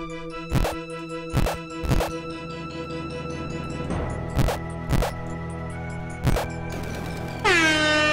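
Air horn sound effect in the video game Legend of Lana Gaiden: about six loud, short honking blasts at uneven intervals over a droning game tone, ending in a rising, warbling sweep.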